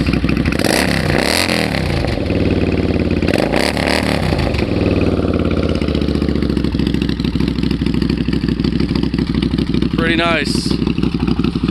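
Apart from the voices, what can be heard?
1999 Suzuki Marauder 800 motorcycle engine revving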